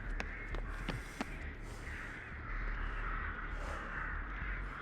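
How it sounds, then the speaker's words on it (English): Crows caw repeatedly across a spooky map in the video game Dead by Daylight, several sharp calls in the first second over a steady ambient wash, then quieter caws further off. "You can hear all the crows."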